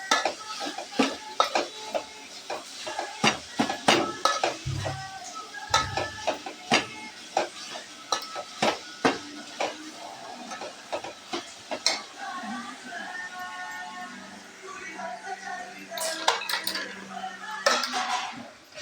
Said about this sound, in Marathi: टोमॅटो आणि कांदा चांगला परतून घ्यायचा.